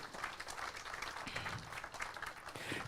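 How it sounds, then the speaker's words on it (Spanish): A church congregation applauds in gratitude to God, a faint but continuous patter of many hands clapping in a reverberant room. "Dale otro aplauso de gratitud al Señor."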